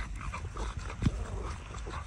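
A French bulldog and a bulldog play together, with a brief whimper rising midway over steady panting, scuffling and low background noise.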